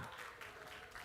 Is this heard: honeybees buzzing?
no